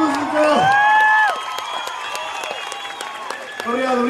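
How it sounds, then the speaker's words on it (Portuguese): A concert crowd in Santana claps and cheers after a song, with whoops over steady applause and a nearby voice speaking over the noise. "Salva de palmas, então!"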